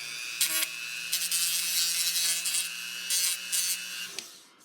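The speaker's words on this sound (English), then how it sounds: "you just take the Dremel and then just" A Dremel rotary tool smooths a small bump on a McLaren 650S car model. A high whine rises and falls in several short bursts of grinding contact before tapering off.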